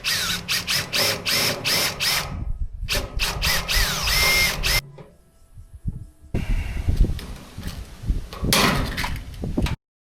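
A power drill whirs in repeated short bursts during a Titan 3x3 shed build, loud and close, broken by a quiet gap and then a stretch of clattering, bumping work noise.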